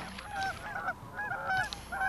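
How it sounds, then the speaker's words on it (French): Several brant geese honk in a noisy chorus, overlapping nasal calls repeating in quick bursts at moderate distance. "Lors de la migration saisonnière, les bernaches, canards barboteurs, avec leur tintamarre"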